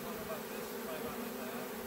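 A bee swarm arriving at a hive makes a dense, continuous buzzing hum, steady and enveloping throughout with no pauses.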